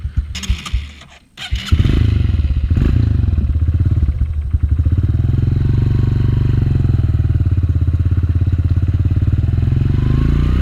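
A Honda CRF125F dirt bike engine sputters and catches, then settles into a loud, steady, throbbing exhaust idle close by on a farm.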